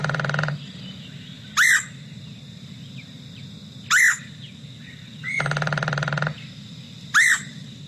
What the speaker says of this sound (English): So here's how the red-headed woodpecker sounds.